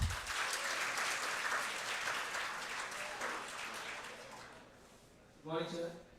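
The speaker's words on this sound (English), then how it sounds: "Please give a round of applause for him." An audience applauds after a presentation at a coding talk, a steady wash of clapping that fades toward the end before a voice speaks briefly.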